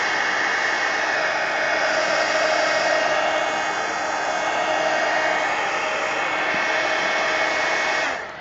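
A hair dryer blows steadily on loose collage pieces for an altered collage book, a loud continuous airy roar that holds for about eight seconds before cutting off abruptly.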